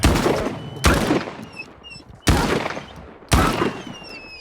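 Pistol gunshots in a video game: four loud, sharp cracks at uneven intervals, each trailing off in a decaying echo, with faint whistling tones drifting between them and no talking.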